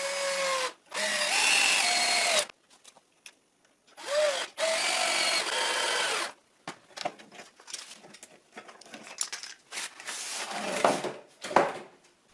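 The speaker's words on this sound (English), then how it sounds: "I screw another strip in the other side of the sawhorse" Power drill driving screws to fix a wooden strip onto the side of a sawhorse: several loud whirring bursts of a few seconds each, with short pauses and lighter handling knocks in between.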